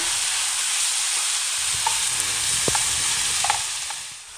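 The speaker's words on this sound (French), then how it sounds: "Et je laisse le tout revenir à feu moyen pendant 8 minutes en remuant de temps à autre." Chicken stuffing with chopped coriander and parsley fries on medium heat, giving a steady close hiss with a few soft spoon taps and scrapes as it is stirred.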